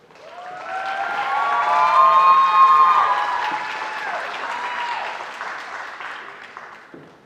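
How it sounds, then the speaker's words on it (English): Audience applause at the Miss North Hardin 2022 pageant as the previous year's titleholder is introduced, swelling in and fading out over several seconds, with tonal music or cheering voices mixed over the clapping. "Give her a round of applause."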